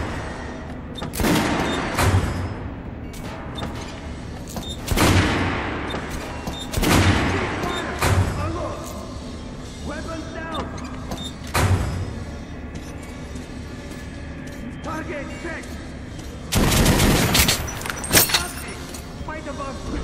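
Gunfire in the video game Metro Last Light, scattered loud bursts and booming shots in several clusters over twenty seconds, mixed with shouted voices and other game noise.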